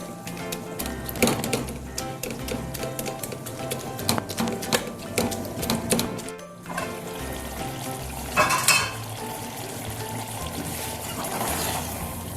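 Chicken for chicken kachnar frying in a pot, a steady close sizzle and crackle with scraping and clinking of a spoon at intervals, no voices.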